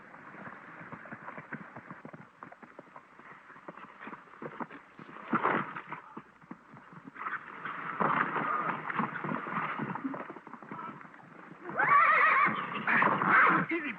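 A horse neighs and whinnies several times, loudest toward the end, with some shuffling and clip-clop movement between calls, from a 1936 film.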